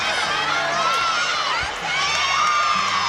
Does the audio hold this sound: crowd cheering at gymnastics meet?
yes